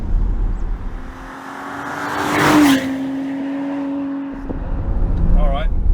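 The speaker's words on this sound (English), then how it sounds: "we're in Tiptronic, change gears, throttle blip, which is cool for a GT car. It's got that deep growl to it" A 1,925-kilogram GT car in Tiptronic mode, its deep engine growl dropping, then holding a steady drone under a gear change before revving back up with throttle blips, heard from inside the cabin.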